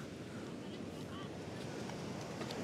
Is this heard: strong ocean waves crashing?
yes